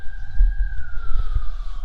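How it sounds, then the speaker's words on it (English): A fire department siren wails as a single sustained tone that slowly falls in pitch, heard in the distance over low rumbling wind and traffic noise near an air base park. "the sirens you hear is the fire department in the background"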